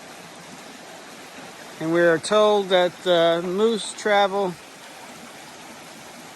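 A stream flows right beside a campsite on the Appalachian Trail, a steady soft broadband rush that continues unbroken throughout while someone speaks briefly over it.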